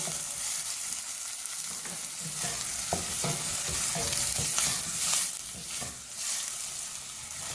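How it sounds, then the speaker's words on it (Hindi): Finely chopped onions sizzle steadily in a hot pan while being fried toward golden brown, with occasional scraping and stirring sounds close by and no talking. "प्याज को हम गोल्डन ब्राउन करेंगे हल्का सा।"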